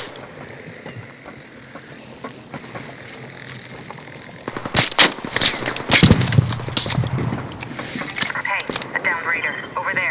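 Gunfire in the shooter game Arc Raiders: a cluster of sharp, loud shots in the middle and scattered cracks afterward, over low background rumble, with people talking throughout.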